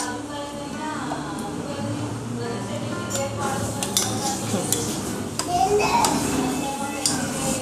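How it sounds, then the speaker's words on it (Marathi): Spoon clinking and scraping against a bowl while pani puri filling with pani puri masala is mixed and mashed, steady close handling sounds with a voice faintly in the background. "आणि सगळं आपण मिक्स करून एकदा स्मॅश करून घेऊया।"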